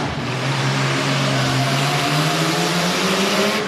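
A tough truck racing vehicle drives the dirt course at Brookville, PA, its engine a loud, continuous droning roar that climbs gradually in pitch as it accelerates.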